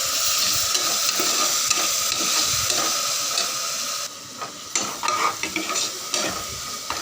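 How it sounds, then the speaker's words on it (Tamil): Ginger garlic paste fried with onions in a cooker, a loud continuous sizzle and hiss that eases after a few seconds into irregular stirring scrapes, heard close with no talking. "இப்போ சேர்த்து வச்சு இஞ்சி பூண்டோட பச்சை வாசனை போகிற வரைக்கும் அதை நல்லா வதக்கிக்குங்க"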